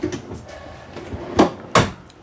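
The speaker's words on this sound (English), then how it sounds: "I like the drawer down here too, below the cabinets." Cabinet drawer in a Jayco Eagle fifth wheel RV sliding and shutting, a few soft rubbing sounds followed by two sharp close knocks near the end.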